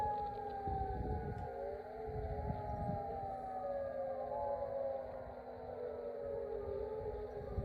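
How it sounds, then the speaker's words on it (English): Air raid alert sirens wailing across southern Turkey, several overlapping tones rising and falling in slow, howling glides, heard from a distance as a steady drone. "We also were able to hear the air raid alert sirens going off in this clip right here."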